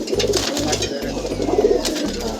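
Pigeons cooing in a loft, repeated low throaty coos in a rhythmic series, close and clear, with a few faint chirps behind.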